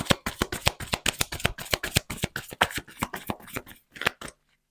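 A deck of playing cards shuffled and handled during a tarot-style card reading, a rapid run of crisp riffling snaps heard up close, gradually slowing before falling silent, with no speech.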